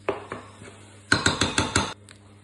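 A spoon stirs seasoning in a pan for spaghetti bolognese, making a few spaced clinks and then a quick run of five sharp metallic scrapes and taps, close and clear.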